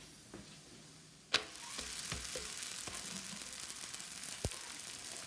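Sizzling of msemen flatbread frying in a pan, a quiet hiss that starts with a sharp contact click and then stays level and continuous, with scattered small pops and ticks throughout.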